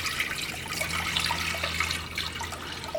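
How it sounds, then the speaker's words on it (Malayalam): Water poured into a cooking pan for boiling pasta runs in a steady, full rush for about three seconds, close and fairly loud, with no voices. "അതിലേക്ക് ആവശ്യത്തിന് വെള്ളം ഒഴിക്കുക."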